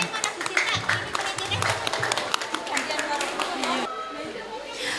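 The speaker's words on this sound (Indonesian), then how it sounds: "Berikan tepuk tangan untuk tari dolanan Jawa." An audience claps and chatters after a Javanese dolanan dance performance at a junior high school graduation ceremony, with steady, dense applause filling the room for several seconds before it thins out.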